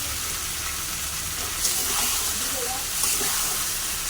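A mustard hilsa fish mixture with turmeric, salt and dry chili powder hits hot oil in a pan, giving a steady, bright sizzling hiss that carries on for several seconds with a few small pops.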